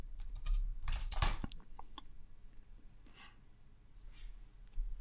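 Quick bursts of keystrokes on a computer keyboard as a password is entered, fast clustered clicks early on followed by a few sparse, lighter taps, close and fairly quiet.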